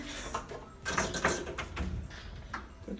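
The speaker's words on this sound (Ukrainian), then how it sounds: "відкриваємо шкаф" A wardrobe door in an Egyptian resort hotel room is slid or swung open, with several knocks, rattles and scraping thuds of the door and its fittings in a quiet room.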